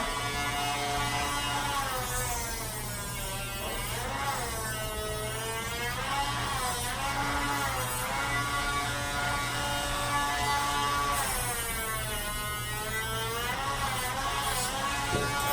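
Dremel rotary tool grinding a dog's overgrown nails at high speed, a steady close electric whine that rises and falls in pitch as it presses against each nail, continuous with no talking.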